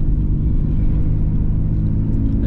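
A Nissan Skyline GT-R engine on a test drive, a steady low rumble and drone that holds without change, heard from inside or close to the car with no talking over it.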